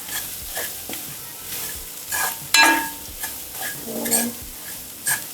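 Cauliflower keema sautéing and sizzling in a pan over low heat, with steady frying crackle and intermittent scraping stirs of a spatula against the pan, close and moderately loud.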